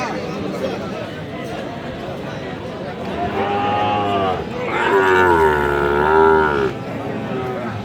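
Sahiwal bulls and other cattle moo at a busy livestock market, with long, loud, drawn-out calls rising in the middle and ending, set against steady crowd chatter and background noise.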